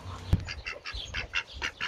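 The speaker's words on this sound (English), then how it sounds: "Hello, Mr. Puddle Duck." A pet duck quacks in a garden, a quick series of short nasal calls in an uneven rhythm, close and fairly loud, opened by a sharp thud.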